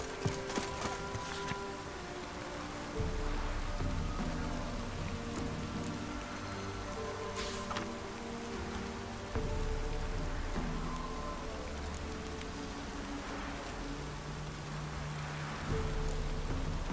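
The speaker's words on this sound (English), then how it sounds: "Looks like rain." Steady rain in The Witcher 3: Wild Hunt patters on a surface, with soft intermittent thuds and low rumbling beneath, fairly quiet and continuous.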